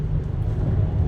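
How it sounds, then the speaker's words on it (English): Car tires roll over interstate rumble strips, making a dense, low, continuous rumble that stays loud and steady through the brief moment. "That sound is the rumble strips that are working on the interstate."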